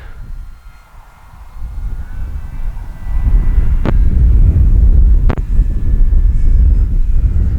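An FMS Pilatus RC model plane cruises at half throttle on a windy day, its engine a low steady drone that grows louder and closer, heavily buffeted by rumbling wind noise on the microphone.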